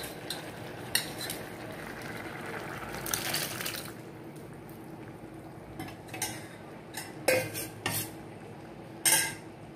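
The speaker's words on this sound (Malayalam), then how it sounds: "ഇനി ഇതിലേക്ക് നമ്മൾ വേവിച്ച് വെച്ച പരിപ്പ് നല്ലതുപോലെ കടഞ്ഞ് അതിലേക്ക് ഒഴിക്കാം." Cooked dal is churned and poured into a pot of varutharacha sambar, then stirred, with a low bubbling simmer broken by several sharp clinks and scrapes of a utensil against the pot, close and without talk.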